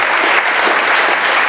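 Sustained, dense audience applause fills a hall at an Ignite Barrie 2016 talk once the presentation ends, steady and loud throughout with no voices over it.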